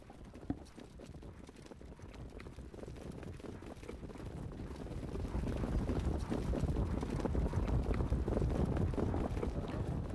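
Harness racing horses break from the start of a race, their hoofbeats a steady low rumble under heavy wind buffeting the microphone, growing louder and denser as the field approaches.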